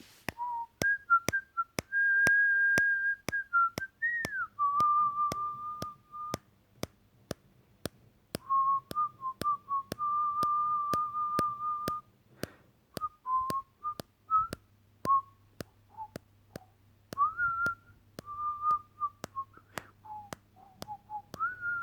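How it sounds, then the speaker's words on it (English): A person whistles a melody idea into a phone, clear pitched notes in short phrases with gaps between them, some held and some sliding, recorded close and alone. "I'll record myself whistling the tune using my phone"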